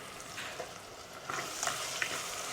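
Tomatoes sizzle and fry in hot oil in a pan for a fish curry, a soft steady crackle with a few brief pops, fairly quiet and with no talking.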